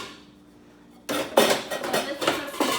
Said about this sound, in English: you place the frying pan up top.